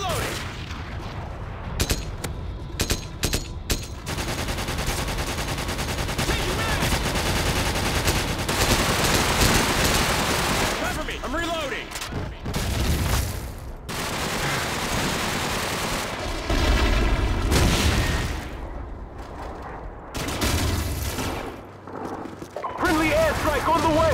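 Silenced AK47 fire in Call of Duty 4 on the Wii comes as repeated bursts of muffled shots and booms mixed with game effects, continuous and dense throughout, with in-game voices heard.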